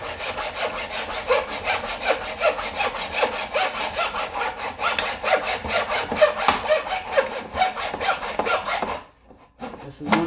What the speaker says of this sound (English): this will allow you to make straight cuts. And you can use just a regular hand saw.